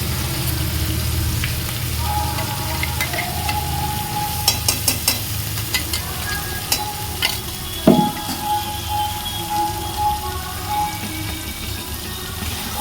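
Spice paste for chicken kosha fries and gets stirred in a pan, a steady low sizzle with repeated scraping strokes and a few sharp clanks of the spoon against the metal.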